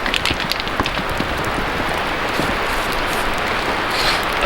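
Steady rain falls at an outdoor shooting range, a dense, even hiss of drops spattering on surfaces with no gaps for the whole stretch.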